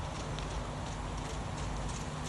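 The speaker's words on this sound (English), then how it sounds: "The horse is becoming progressively more relaxed and is moving with a slower rhythm" A horse walks in a circle on the ground during a gait evaluation, its hooves clip-clopping in a slow, even rhythm against a constant noisy background.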